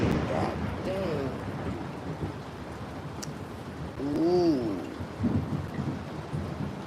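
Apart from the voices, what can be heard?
thunder from a nearby lightning strike during a storm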